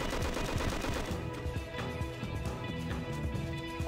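Sustained rapid gunfire from shooting in the video game Just Cause, dense overlapping bursts like a machine gun running continuously and loud throughout, with explosive booms mixed in.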